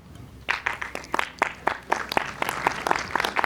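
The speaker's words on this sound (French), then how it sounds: "Il n'y a pas beaucoup d'applaudissements" Sparse, scattered clapping from a modest audience at the opening night of the Chéries-Chéris 2015 film festival, separate hand claps picking up after a quiet start and thickening slightly toward the end.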